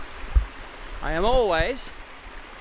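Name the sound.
river flowing at a fork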